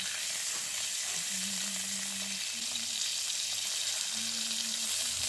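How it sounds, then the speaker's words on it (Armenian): Salmon fillet frying skin side down in a hot pan gives off a steady, dense sizzle that stays even and close throughout, with no voices over it. "Նախ կաշվի կողմից պետք է տապակենք 5 րոպե"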